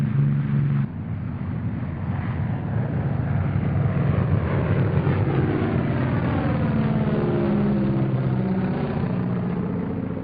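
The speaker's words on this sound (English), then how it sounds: "Planes are taking off at the same time from dozens of widely dispersed fields all over England." Bomber planes take off from English airfields in 1942, their engines roaring in a loud, continuous drone with a pitch that slowly sweeps as they pass.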